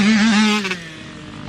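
A Yamaha YZ65 dirt bike on a track lap gives a loud, high engine whine that wavers in pitch, then fades as it pulls away.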